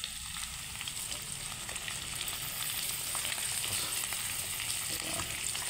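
Fish sizzles and fries in a wok-style pan, a steady close crackle of hot oil running unbroken without talk.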